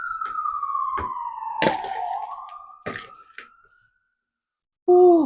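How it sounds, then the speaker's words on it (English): A wailing ambulance siren passes outside and fades away, with a few sharp kitchen clicks and knocks nearby, then a brief louder tonal sound at the end. "excuse the ambulance out there"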